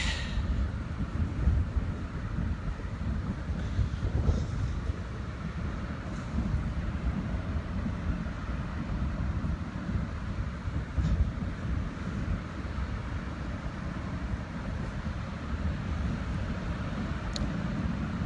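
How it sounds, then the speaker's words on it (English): Steady wind rushing over the microphone, a continuous low buffeting rumble with occasional gusts, no voices. "it's getting windy."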